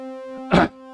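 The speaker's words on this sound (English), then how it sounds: "it's a sine wave going into it" A steady synthesized tone from a Eurorack modular sine wave fed through a wave folder hums with rich harmonics, briefly swelling into a brighter, noisier burst before settling back to the tone.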